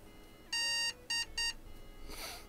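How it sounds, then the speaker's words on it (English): PC beep code in a hardware-engineering video game, one long electronic beep followed by two short beeps, clear and tonal over a quiet background, with a faint hiss afterward. "One beep, then 2 beeps. That was power supply, wasn't it?"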